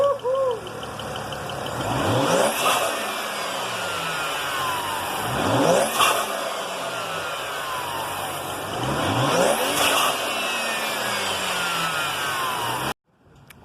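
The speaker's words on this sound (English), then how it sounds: "you wanna have your diverter valves, which are completely stock on a turbocharged car, to blow out into the atmosphere" A turbocharged BMW N54 engine revs up and down in three repeated bursts, each ending in a sharp hissing whoosh of a blow-off valve venting air, loud and close.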